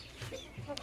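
A Shamo chicken gives a couple of soft, brief clucks, fairly faint and nearby, in an otherwise quiet moment.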